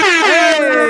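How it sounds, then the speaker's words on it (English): A single loud air horn blast, a brassy blaring tone lasting under a second, close and alone. "I'll get some air horns, man. Shout out air horn"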